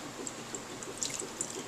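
Chicken broth is poured over chicken nuggets in a bowl, a faint, brief liquid trickle with light splashy drips, heard alone and quiet.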